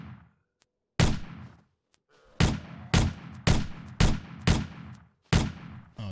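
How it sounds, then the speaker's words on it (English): Gunfire from a weapon in the video game 7 Days To Die: six or seven sharp, loud single shots spaced irregularly, each with a short decaying tail, with no talking. "Let's go ahead and shoot this bad boy."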